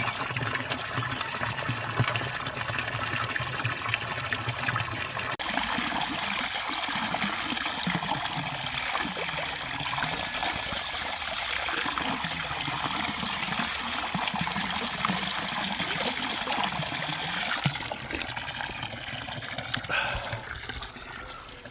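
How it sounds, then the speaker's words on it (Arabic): Natural spring water at the Ain Boudra spring on a mountain near Sidi Kacem trickles and splashes steadily, a continuous close, bright running-water sound with no voices. "كيف ما قلت لكم هذه هي العوينه"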